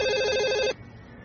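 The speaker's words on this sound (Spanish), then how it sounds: "Oh, ¿hay un teléfono aquí?" A telephone rings in a house, a loud steady electronic ringing tone that stops abruptly partway through, followed by quiet room ambience.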